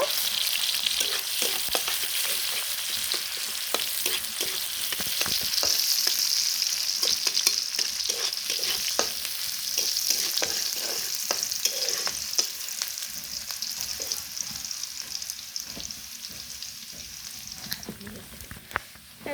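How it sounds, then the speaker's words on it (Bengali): Onions frying in a little oil for a rohu fish and water lily curry, a steady sizzle broken by frequent scraping and stirring clicks of a utensil against the pan throughout. "এখন পেঁয়াজ দিয়ে দিচ্ছি, দিয়ে দিলাম পেঁয়াজ। এখন হালকা তেলে ভেজে নিব।"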